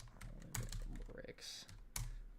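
Keys on a computer keyboard being typed in quick, uneven bursts of close, crisp clicks, with a couple of louder strikes standing out.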